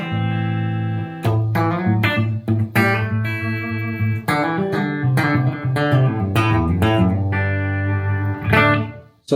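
An electric guitar plays through a Blackstar JJN 50 amp on its clean channel without reverb, producing ringing chords and single notes with clear harmonics, played close and loud, with short pauses between phrases.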